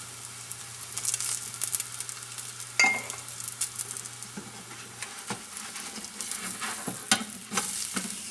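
Rajma paratha made with red kidney beans frying in oil on a pan, a soft crackling sizzle broken by sharper scrapes and taps as it is spread and flipped, close and fairly quiet.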